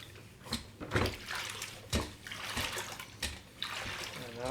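A spin mop head swished through cleaning solution in a bucket makes close splashing and sloshing water sounds in uneven surges, with no voice heard.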